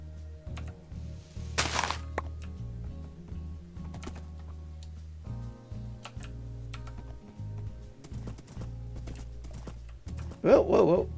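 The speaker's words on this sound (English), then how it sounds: "This horse isn't extremely fast" A horse in the Minecraft Lord of the Rings mod gallops in a steady run of soft, clicky clip-clop hoofbeats, with a brief louder burst of game noise near the end.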